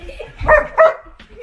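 A dog gives two short yips or barks, close and fairly loud, amid a brief busy mix of other sounds.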